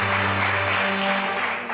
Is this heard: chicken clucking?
no